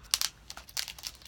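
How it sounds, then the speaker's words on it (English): Plastic wrap crinkles and tears off a mailed package in a few quick, close, sharp bursts. "let's take the plastic off it together and see what this looks like on the inside"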